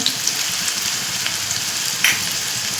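Onion and garlic frying in oil over low heat in a pan, a continuous crackling sizzle with small pops and one sharper spit near the end, close and alone with no talking.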